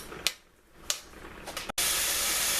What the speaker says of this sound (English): now I'm going to add in my onions and garlic. And I'm going to cook this a few minutes until the onions become translucent.